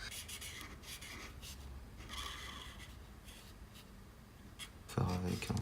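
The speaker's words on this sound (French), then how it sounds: "on va venir colorier avec du gris chaud 5 et du gris chaud 7" A warm grey 5 marker colors in a drawing, making soft, scratchy back-and-forth rubbing strokes close by and faint, and a voice speaks near the end.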